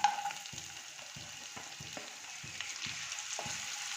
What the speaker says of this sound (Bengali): দেবো একটু কুচনো পেঁয়াজ।